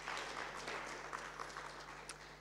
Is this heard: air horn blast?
no